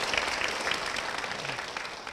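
A church congregation applauds in a steady, moderately quiet wash of clapping that holds evenly throughout.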